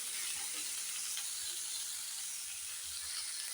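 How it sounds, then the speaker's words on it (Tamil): Mint and coriander leaves sautéing in a pan give off a steady, faint sizzle and hiss, continuous and close, with no voices. "இதை வதக்கிக்கிறேன்."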